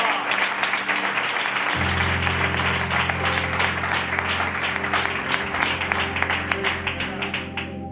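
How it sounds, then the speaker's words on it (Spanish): A church congregation claps loudly and continuously, with a sustained organ or keyboard chord joining underneath partway through and some voices mixed in. "dan un fuerte aplauso al rey"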